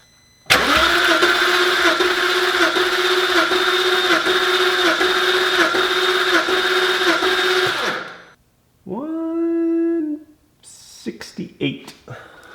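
An Audi S8 engine cranks with no spark plugs or coils fitted for a dry compression test: a long, fast, even whirring crank, a pause, then a second shorter burst, loud and close, followed by brief talk.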